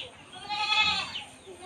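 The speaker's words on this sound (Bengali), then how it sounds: "আর আমার ছাগলগুলো এখানে" A single goat bleat, a wavering nasal cry lasting about half a second, heard close amid outdoor background noise during flooding.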